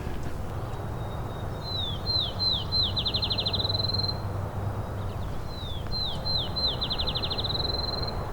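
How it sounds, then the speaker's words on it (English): Field sparrow song in McMaster Forest, Hamilton: two clear songs, each a string of sweet whistled notes that speed up into a rapid trill, fairly near over a quiet background hiss. "Here is a field sparrow."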